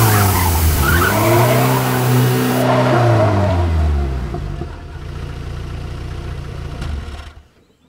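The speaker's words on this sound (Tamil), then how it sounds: "tyre puncture ஆயிடுச்சுரா" A car with a punctured tyre skids, giving a loud tyre screech and a revving engine that wind down. A quieter rumble follows before it cuts off.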